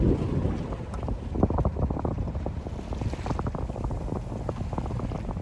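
Steady wind buffets the microphone aboard a single-handed sailboat off Downeast Maine in about 12 knots of breeze, with water rushing past the hull at around 4 knots. The sound is continuous and close, with no voices.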